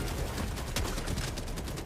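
Rapid bursts of video game gunfire crackle in a dense, continuous barrage, loud and close, sounding like automatic weapons fired over a couple of seconds.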